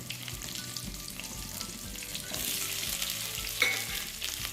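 Shallots and tomatoes sauté in hot oil in a pan for an amaranth stem chutney, giving a close, steady sizzle with scraping stirs that grows louder and denser about halfway through, ending with a sharp clink.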